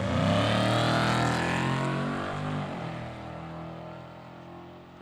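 Loud engine roar from a muffled 2006 Dodge Magnum launching at the start of an open road race in Halsey, Nebraska, revving with a rising then falling pitch as it pulls away and fades slightly.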